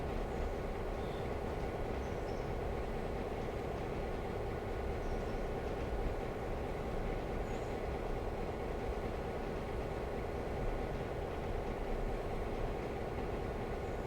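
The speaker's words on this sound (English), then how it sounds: "There's the passenger train." A continuous low rumble of a passing passenger train rolling along the rails, steady and fairly loud throughout.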